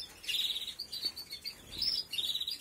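Spanish timbrado canaries chirp in short bright bursts, a run of quick high tweets repeating with brief pauses, fairly close and clear over a quiet background.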